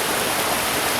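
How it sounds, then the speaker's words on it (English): Steady rush of water pouring over Baskin Falls, a waterfall in the Smoky Mountains, heard close up as a dense, even roar with no voices. "let you enjoy the running water here"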